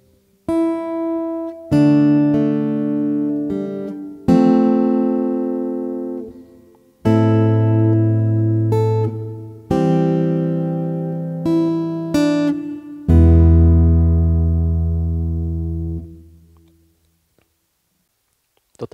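Acoustic guitar playing the House of the Rising Sun melody inside strummed chords, a series of ringing chord strokes with clear sustained decays, the last chord left to fade out, no speech.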